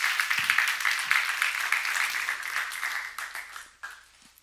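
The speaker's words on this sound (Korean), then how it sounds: "박수로 하나 돌리세요" Church seminar audience at a Jesus-centered church breaking into applause, a dense, steady wash of many hands clapping that holds for several seconds before thinning out and fading near the end.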